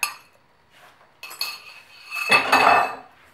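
Milk and egg mixture is added to flour in a bowl for steamed pandan and plain rice cakes, with a few clinks of a utensil on the bowl and then a louder, sustained scraping stir up close.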